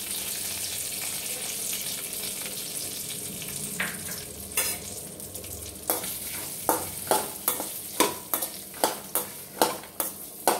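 Chopped onions frying in a pan for a Tamil-style brinjal and avarakkai seed kara kuzhambu, giving a steady sizzle joined by sharp, repeated stirring scrapes that grow louder and more rhythmic toward the end.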